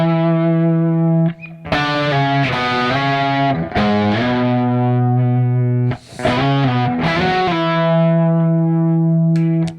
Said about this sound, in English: That was the humbucker on this guitar.